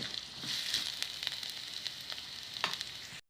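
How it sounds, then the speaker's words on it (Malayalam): Chopped onion and curry leaves sauté in a hot pan for a snack of bread, egg and chicken, giving a steady close sizzle with small crackles and brief stirring scrapes throughout, and no voices. "അരിഞ്ഞു വെച്ച സവാള ചേർത്ത് കൊടുക്കാം കറിവേപ്പില ഇട്ട് നല്ലോണം ഒന്ന് ആക്കി എടുക്കാം അത് നല്ലവണ്ണം വഴഞ്ഞ് വരണം"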